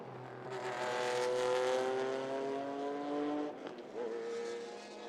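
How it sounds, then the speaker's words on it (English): A white and red Toyota Supra race car takes the La Combe corner at Spa during a Le Mans Classic GT race. The loud, close engine note climbs through the corner, then drops and stutters as it lifts off. "we're watching the white and red Supra just get it slightly wrong coming through Le Combe, but it's compromised the run down the hill"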